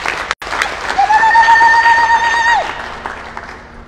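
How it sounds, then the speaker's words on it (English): A crowd at a Nigerian political rally claps together in a sustained burst of applause, with whistles piercing the noise before it fades out. "So let us clap for Nigeria."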